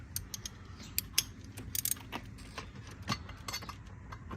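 Ratchet tightening an intake onto the turbo of an Audi 4.0T, a quiet run of small clicks and metallic ticks at close range with no talk.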